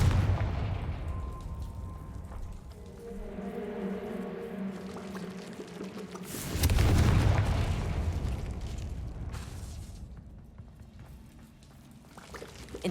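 A Confringo fire spell explodes in the Hogwarts Legacy video game, a loud booming blast in the middle that rolls into a sustained roar, set against a low droning ambient background.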